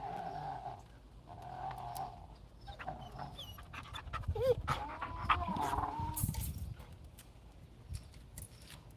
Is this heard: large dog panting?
yes